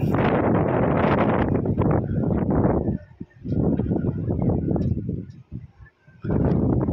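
Loud, gusty wind of a sandstorm in Libya buffets the microphone in heavy roaring bursts, dropping briefly between gusts before surging again.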